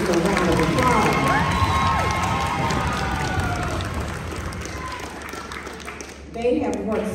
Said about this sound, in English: Let's give these sixth grade band students a round of applause.